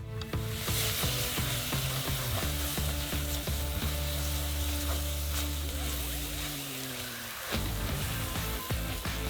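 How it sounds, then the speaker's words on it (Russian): Peanuts are stirred into hot caramel in a saucepan on the stove, a close, dense sizzling and bubbling with scraping stir strokes throughout and a brief dip near the end before the sizzle picks back up; no voices. "Остается все это перемешать."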